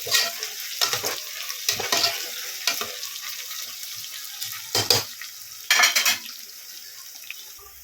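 Onions with salt sautéing in a pan, with a close, crackling sizzle and several uneven bursts of stirring and scraping, louder toward the end, with no talking.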